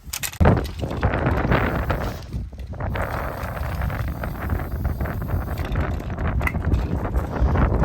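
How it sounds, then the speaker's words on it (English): Wind gusts across the microphone at an outdoor rifle range, a loud, continuous buffeting rumble with brief dips and surges. "You can probably hear the wind"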